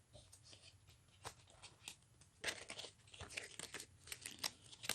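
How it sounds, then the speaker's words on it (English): A deck of cards for the Poles is reshuffled during a tournament battle in the Blitzkrieg Unleashed board game, giving quiet, crisp papery riffling and crinkling bursts that grow busier and louder in the second half. "We reshuffle the Poles deck."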